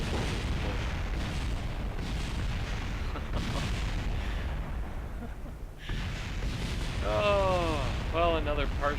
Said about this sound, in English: what explosion wouldn't be complete without a command module spinning out of control there